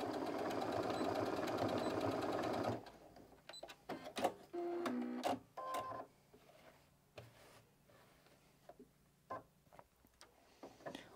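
A sewing machine backstitches to reinforce a fabric pocket on an organizer, starting with a dense run of stitching, then a few short start-stop bursts and mechanical clicks, fairly quiet and close with no voices.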